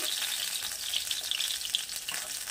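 Bele fish fry in hot oil with a close, continuous sizzle full of fine crackling pops, steady and fairly loud throughout the short stretch, with no voices.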